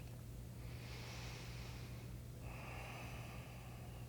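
During chair yoga, a deep inhale and then a longer exhale pass as soft, breathy rushes of air, close and quiet over a constant low background hum.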